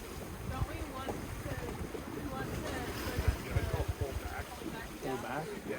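Strong wind buffets a sailboat running under spinnaker, with rushing air and water noise continuous throughout and gusty swells; people talk over it.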